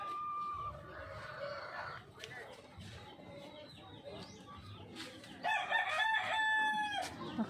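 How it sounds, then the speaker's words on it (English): Chickens cluck and a rooster crows outdoors in a garden in the Philippines, with a bright crow rising near the end over soft background chatter. "And of course you've got chickens."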